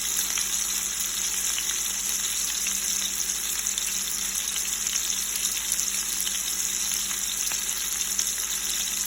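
Pork frying and bubbling in a pan on the stove for pork Marsala, a steady loud sizzle that continues unbroken throughout, close up with no voices.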